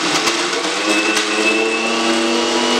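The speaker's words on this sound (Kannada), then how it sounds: "ಹಣ್ಮೆಣಸಿನ್ಕಾಯಿ ಈಗ ಲೈಟ್ ಆಗಿ ಮಿಕ್ಸಿಗೆ ಹಾಕೊಂತಾರೆ." An electric mixer grinder whirs loud and steady, its motor droning with a strong whine while grinding red chillies for a traditional mango chutney, with no voices over it.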